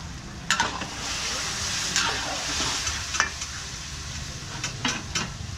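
A steady bubbling simmer of sauce fills the clip, with a few sharp scrapes and clinks from a spoon stirring in a pot.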